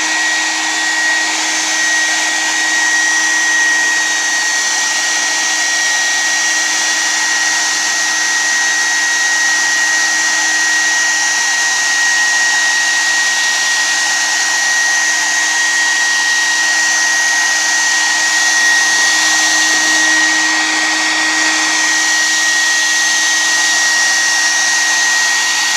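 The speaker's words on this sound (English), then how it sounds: "I'm going to heat this up a little more." Hair dryer or heat gun blowing hot air over crochet work made from a blanket pattern, a steady loud whoosh with a constant hum, running unbroken throughout with no talk.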